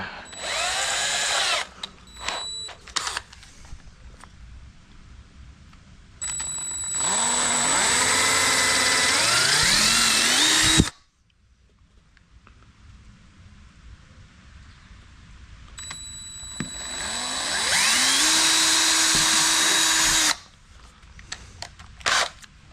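Power drill boring a pilot hole during interior assembly on an old vehicle, heard in two long loud bursts with rising whine as the motor spins up, separated by a quiet pause and short taps.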